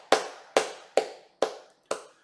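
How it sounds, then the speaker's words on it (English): Five sharp, evenly spaced hand claps ring out one at a time, close and crisp, each dying away quickly before the next. "Let's do a couple of claps."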